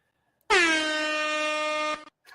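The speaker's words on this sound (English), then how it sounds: "never enough air horn" A single loud, sustained air horn blast lasting about a second and a half, blaring alone against silence.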